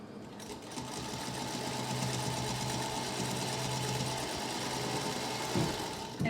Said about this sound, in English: I'm just gonna sew it straight across